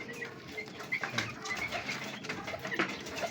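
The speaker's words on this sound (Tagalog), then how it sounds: "So iipuin natin mamaya yung mga kalapati natin, yung mga young bird natin" Young pigeons in a loft give soft coos and brief wing flaps amid light rustling, with a couple of sharper flutters standing out against low background noise.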